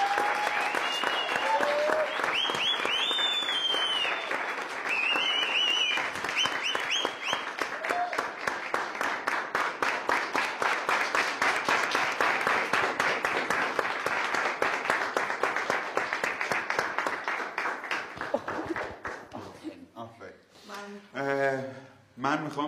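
Sustained audience applause for a student honored for a top university entrance exam result, dense clapping holding steady for about twenty seconds, with cheering voices mixed in before it fades and speech begins.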